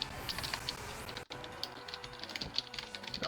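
Typing on a computer keyboard during an online game, quick light clicking keystrokes in an irregular rhythm, fairly faint and close.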